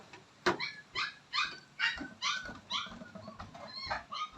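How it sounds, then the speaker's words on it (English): Puppy barking repeatedly behind a gate, a steady run of sharp, fairly close yips and barks spaced roughly every half second, with some whimpering tones between them. "You can see the puppy through the door, the gate."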